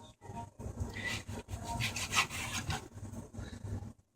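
A sharp knife saws back and forth through meat at an angle, cutting thin strips for pho, several close, soft scraping strokes with brief pauses between them.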